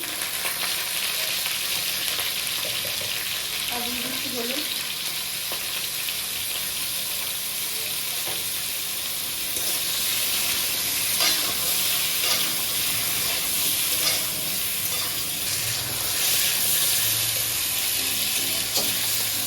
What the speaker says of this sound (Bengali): তেলটা গরম হয়ে গেছে আমি এখন দিয়ে দিচ্ছি পটলগুলোকে